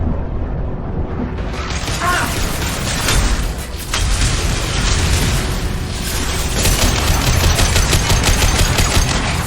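Impact shot gunfire in Mass Effect 2, heavy booming bursts and rapid crackling shots layered over dense combat noise, loud and continuous with a busier rattling stretch toward the end.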